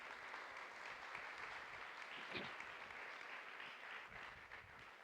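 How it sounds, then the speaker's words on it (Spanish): Steady, dense applause from a church congregation during a sermon, a continuous wash of many hands clapping at even loudness throughout, moderately distant, with a faint voice briefly rising in the middle. "denle aplauso al Señor"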